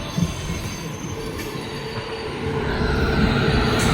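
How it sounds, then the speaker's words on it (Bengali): A train switching tracks on a Kolkata to Chennai rail journey, heard from inside as a loud continuous rumble of wheels with a persistent high metallic squeal, growing heavier toward the end. "দেখো পুরো লাইন চেঞ্জ হচ্ছে, এখান থেকে পুরো ট্রেনটা মানে আমরা এই লাইনে এসেছি"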